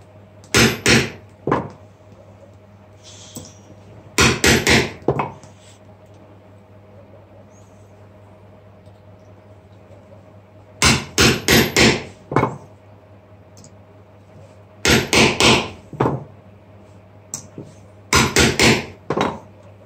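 Steel knuckle plates for medieval Visby gauntlets being hammered into shape, heard as loud close bursts of rapid metal-on-metal blows in several separate flurries with quiet pauses between.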